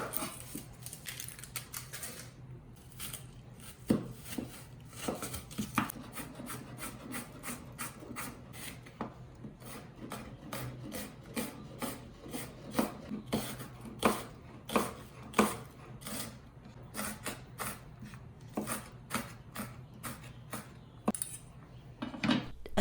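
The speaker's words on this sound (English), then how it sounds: "Chop 1 cup of yellow onion, which is roughly 1/2 of an onion." A knife chopping yellow onion on a cutting board, with rapid, steady clicks of the blade striking the board in quick bursts and short pauses, close and clear.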